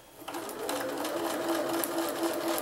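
Sewing machine stitching quilt fabric along a line, a steady close whir of rapid needle strokes running without a break.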